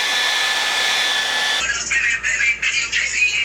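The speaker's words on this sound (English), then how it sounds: "after you take your blow dryer and blow dry it until it's completely dry" A blow dryer roars steadily while drying a real-hair wig during an install, its tone changing partway through as the airflow shifts, with no talk over it.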